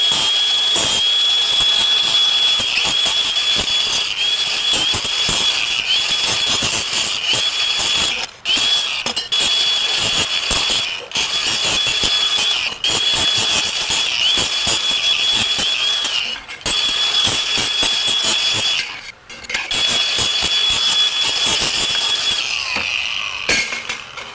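A power grinder works over steel edges, softening them ahead of welding in a shop; a loud, steady high whine runs nearly the whole time, broken by a few brief dips where the tool eases off the metal.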